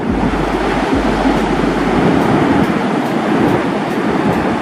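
Ocean surf at Varkala beach in Kerala roars as a steady, loud wash of breaking waves, with wind buffeting the microphone and no talking.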